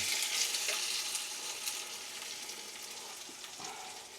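Dried red chillies frying in hot oil for raw mango pickle, a steady close sizzle and crackle that holds throughout with faint stirring.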